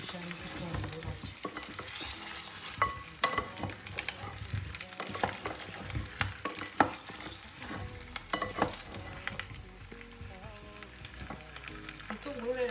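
Onion fries and sizzles in hot oil in a pan, a steady crackling hiss broken by scraping stirs and occasional utensil knocks, close and without speech.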